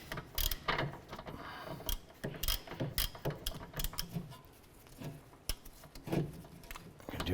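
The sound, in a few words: ratcheting to tighten bolt on Honda Accord wheel hub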